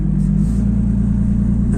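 A Mercedes W124 with an OM606 diesel and HX35 turbo accelerates in third gear, a loud, steady low engine drone and rumble filling the whole stretch without speech.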